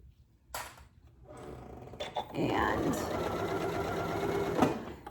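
A Janome Memory Craft MC9450 sewing machine running a quilting stitch, its fast, even whirring hum building after a few clicks and continuing steadily under a voice.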